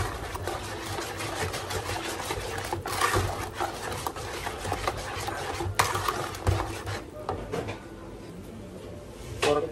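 Banana bread batter is mixed in a bowl, giving steady scraping and rubbing strokes with occasional sharper knocks of the utensil against the side, close and fairly loud, with no talk.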